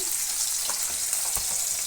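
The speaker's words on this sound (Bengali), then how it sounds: "এই যে পাবদা মাছ হালকা করে একটু ভেজে নিচ্ছি" Pabda fish frying lightly in a pan of oil, a steady close hiss of sizzling with a few soft crackles and faint clinks, no voices.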